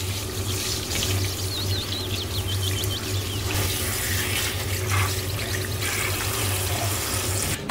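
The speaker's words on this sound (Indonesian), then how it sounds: "kita bilas sayuran yang sudah direndam tadi sambil digosok hingga tidak licin" Tap water gushes steadily into a sink while soaked vegetables are rinsed and rubbed by hand, a continuous close splashing stream with faint handling noises and no talking.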